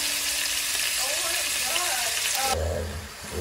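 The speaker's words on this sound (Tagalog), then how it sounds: "Lagyan na natin yung spare ribs." Spare ribs fry in a hot pan for coconut milk adobo, giving a loud, continuous crackling sizzle with faint talk in the middle; the sound shifts near the end as a low rumble enters.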